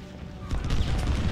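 Musket volley crackles against skirmishers in the Civil War strategy game Ultimate General Civil War, a burst of overlapping shots breaking out after a quieter start, loud and rolling.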